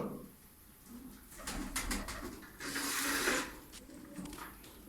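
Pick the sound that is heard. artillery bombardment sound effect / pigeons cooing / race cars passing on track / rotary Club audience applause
pigeons cooing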